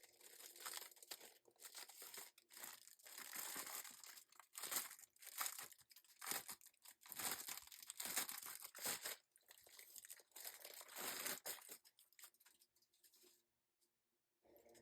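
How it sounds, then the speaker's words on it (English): A large plastic envelope is pulled open by hand in card-making crafting, giving close, loud bursts of crinkling, tearing and rustling plastic that run almost continuously before stopping near the end. "it is in one large plastic envelope. So let me get that open."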